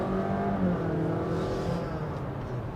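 Honda City e:HEV hybrid car driving on the road, a steady, fairly loud engine and road drone with faint rising whir, continuous throughout with no talk.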